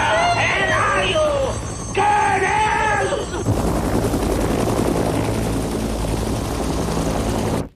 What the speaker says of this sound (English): Where did the helicopters come from?